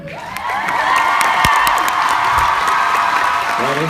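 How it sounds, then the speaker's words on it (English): A convention panel audience claps and cheers loudly, with whoops and high shouts rising over a dense wash of applause that carries on throughout, close and full in a large hall. "Everybody, round of applause."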